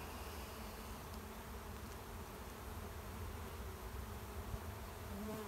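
Honey bees buzz steadily at a hive opened for a spring inspection after overwintering, a dense, continuous drone with no voices.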